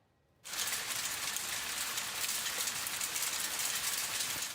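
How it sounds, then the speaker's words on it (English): Hail pours down during a thunder snow storm in Calgary: after a short quiet start, a dense, even patter of hitting ice begins suddenly and keeps going without a break at a fairly soft level. "the unusual sound of hail coming down last night"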